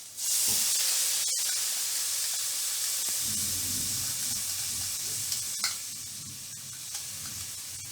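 Vegetables sizzle steadily in a hot pan with pre-made Schezwan sauce, a loud, close frying hiss that holds throughout with occasional stirring clicks, no talking.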